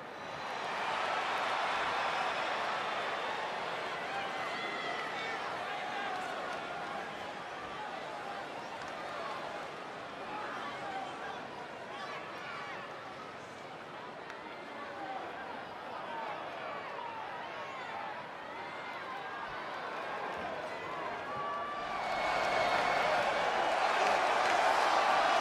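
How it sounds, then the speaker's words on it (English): A large arena crowd at an NXT wrestling event roars and cheers steadily, swelling louder near the end, with a commentator's voice faintly mixed in. "Would you listen to this crowd?"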